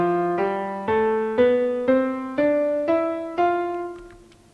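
Piano notes played an octave lower: eight clear single notes in a steady rising step pattern, each struck and left to ring, close and alone, the last one decaying away.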